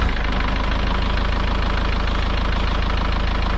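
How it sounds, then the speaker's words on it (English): A tractor engine runs steadily at idle, a dense, constant low rumble with a faint knocking texture throughout, close and fairly loud with no talking. "I'm going to get the tractor out of here and put it on level ground"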